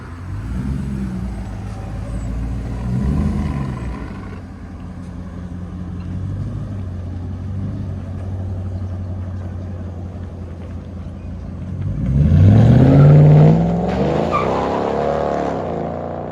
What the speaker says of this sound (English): 21 Ram 1500, true dual X pipe, straight pipe.